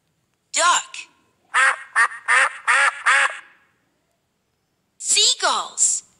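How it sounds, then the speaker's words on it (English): A duck quacks in bursts: one call, then a run of four or five quick quacks, and after a pause a final cluster of two or three quacks, loud and near with silence between. "Duck."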